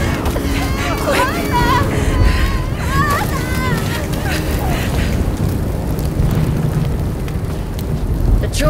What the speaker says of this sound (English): Continue the bombardment.